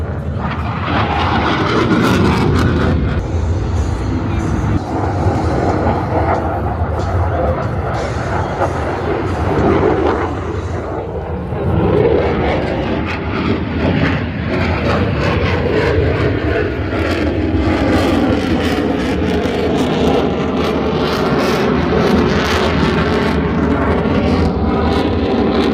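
A US Navy Blue Angels F-18 jet in a maximum performance turn at an air show, its engines roaring loud and continuous with surging, shifting intensity over a busy outdoor crowd.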